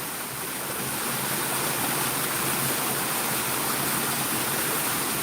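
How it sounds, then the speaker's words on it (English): A waterfall roars with a steady, loud, broadband rush of falling water that fills the whole clip without a break, and no voices can be heard. "the waterfall sounded just as loud as when we were over here"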